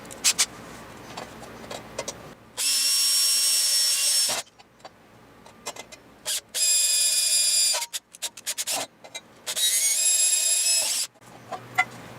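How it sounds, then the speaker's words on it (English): A power drill whines in three loud bursts of a few seconds each, drilling a hole in a switching power supply, separated by quieter handling clatter and knocks. "I have to drill this hole over the garbage can"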